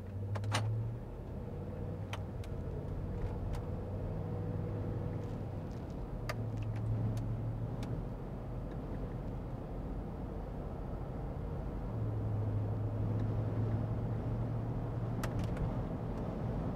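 A 2010 Land Rover Range Rover Sport Supercharged pulls away from a stop, its engine giving a steady, even low drone with a faint rise in pitch, close and continuous throughout.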